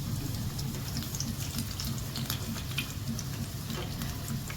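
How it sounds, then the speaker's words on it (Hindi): Chicken pizza samosas, four or five at a time, fry in hot oil over medium heat with a steady close sizzle and scattered crackling pops throughout. "बस पहले मैं इतनों को फ्राई करती हूँ"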